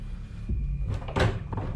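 A stuck door is jiggled and forced, giving a few dull knocks and rattles, then a sharper clatter near the end, close by with no voices.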